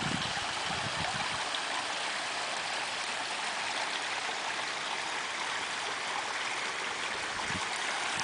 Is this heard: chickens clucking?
no